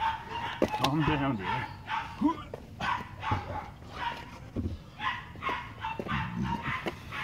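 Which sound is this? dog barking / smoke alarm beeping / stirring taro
dog barking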